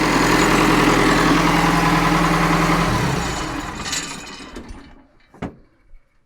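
A combine harvester's engine running after its cracked crankshaft was replaced, a loud steady rumbling idle that winds down and fades out, ending with a few scattered knocks and clunks in near silence.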